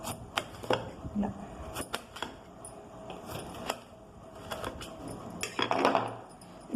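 A bottle gourd is cut into big chunks with a kitchen knife: sharp, irregular chopping knocks, close and moderately quiet, with a slight clatter of pieces between strokes.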